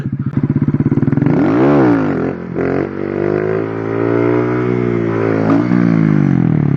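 A Honda Grom motorcycle during wheelie practice, its small engine revving loudly with a rising and falling pitch as the throttle is worked, then holding a steady drone close by.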